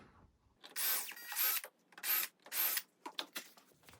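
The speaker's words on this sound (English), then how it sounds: "Pre-drill this." A power drill whirs in four loud bursts close by, then stops and starts briefly with faint clicks and handling noises.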